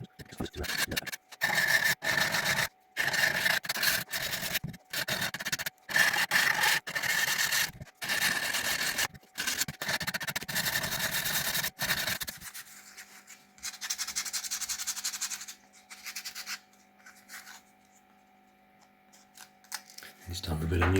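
Rapid back-and-forth rasping of 240-grit sandpaper on wooden edges in close, steady strokes, then a fainter, quieter stretch with a low hum near the end.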